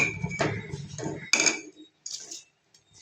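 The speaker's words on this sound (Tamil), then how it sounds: "பிரியாணி அரிசி சேர்த்துப்போம்." Biryani rice tipped into a pot of half-cooked quail, heard as a few close, rattling bursts of grains striking metal with brief clinks, separated by short pauses.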